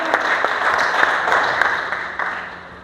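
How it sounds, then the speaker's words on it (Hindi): Group of trainees applauding together during a lifting and rigging safety training class, a steady burst of many hands clapping at close range for about three seconds. "इस बात पर ताली मारो सब आदमी"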